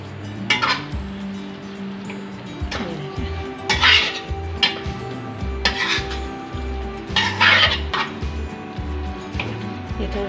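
Spaghetti tossed with vegetables and spices in a pan, with scraping and clinking of a utensil against metal in a few bursts over a steady low kitchen hum, close by and moderately quiet.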